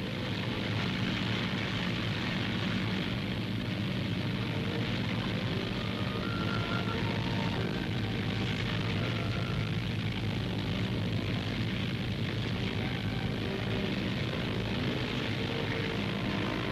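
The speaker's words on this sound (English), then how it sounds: "Now she starts on the first of many long runs up and down the runway to get the feel of her" Bristol Brabazon airliner running along the runway on its own piston engines during ground trials, a steady, loud, droning engine roar that holds evenly throughout with no talk.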